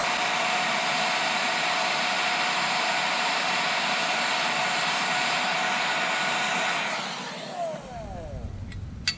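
Heat gun or hot-air blower warming the crankshaft bearings of a Husqvarna 372 chainsaw during assembly, a loud steady broadband roar that runs close and unbroken before cutting off near the end.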